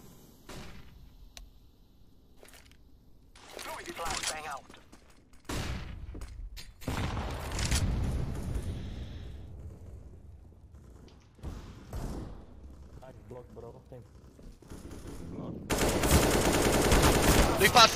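Gunfire in the CS:GO video game: scattered single shots and short bursts over quiet stretches, then a loud sustained volley of rapid fire near the end.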